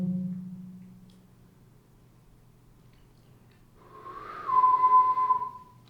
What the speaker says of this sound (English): Is this where the whistling was coming from?